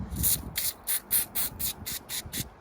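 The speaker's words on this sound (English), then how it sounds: "I'm going to spray it right on my hand" Hair mousse sprays onto a hand in about eight short, sharp hissing bursts in a quick, fairly even rhythm, close and loud with no talking.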